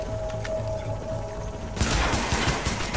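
Gunfire in Tom Clancy's The Division: quiet game ambience, then a sudden burst of dense, sustained shooting that fills the last second or so.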